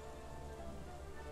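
Soft, steady rainfall in The Isle video game, a continuous even patter with no breaks and no voices over it.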